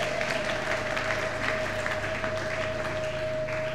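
A church congregation claps and applauds together during a closing seminar service, a dense, steady wash of clapping held at even loudness throughout, with a faint sustained tone underneath.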